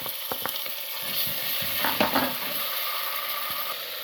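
Steady hot-oil sizzle of garlic and ginger frying, with a few sharp clinks and scrapes of stirring; close and continuous, with no voices.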